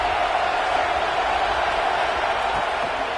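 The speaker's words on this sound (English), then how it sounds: "This crowd ready to make its presence known." Simulated stadium crowd in a college football video game, Ohio State hosting Nebraska, a steady, loud broadband roar that holds constant throughout without breaks.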